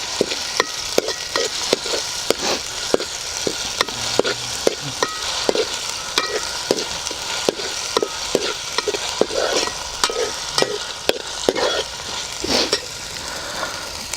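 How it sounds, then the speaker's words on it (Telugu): Ginger paste is stirred into a Rohu fish curry in a pan over a steady sizzle, with regular sharp scrapes and taps of a spoon close by. "అల్లం పేస్ట్ వేసుకొని బాగా కలుపుకోవాలి"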